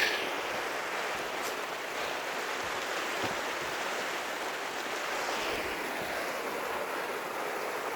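Steady broadband rushing of the Pecos River flowing in the Pecos Wilderness, continuous and even throughout, with no voices.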